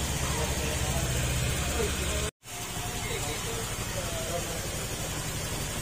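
A car engine with mixed oil and coolant idles after an oil change: a steady, loud, close mechanical hum and hiss, with one brief dropout partway through.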